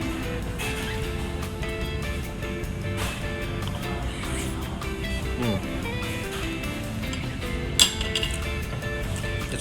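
Soup spoon clinking against a bowl while eating pork and shrimp dumplings with chili in a Taiwanese restaurant in Manila; light clinks over steady restaurant chatter and background music, with one sharper clink near the end.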